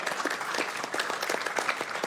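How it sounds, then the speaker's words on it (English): A public gathering at a Sacramento city council meeting applauds transportation engineers. The round of claps is dense and fairly close, with individual hand slaps standing out, and it holds steady throughout. "let's give our public transportation engineers a big round of applause as well."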